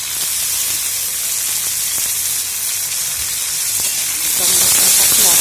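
Tomatoes frying in a pan for a Marathi bombil (Bombay duck) chutney, giving a steady, loud sizzle and hiss that swells toward the end, with no talking.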